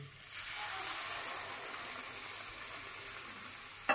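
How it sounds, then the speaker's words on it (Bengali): Fried onions hiss and sizzle steadily in a hot pan as a bowl of water goes in. The sizzle stays loud and continuous for several seconds, and a single sharp clink of a utensil comes near the end. "এবার আমরা এর মধ্যে 1 বাটি জল দিয়ে দেবো।"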